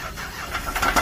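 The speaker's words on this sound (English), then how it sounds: "Rev it up!" A car engine cranks and catches, rising to a rough rev in a brief, loud burst with no voices over it.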